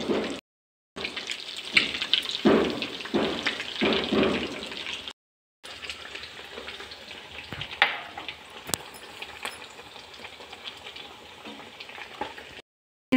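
Fish frying in a pan with a little oil gives a steady, close crackling hiss that stops briefly twice, with no voices.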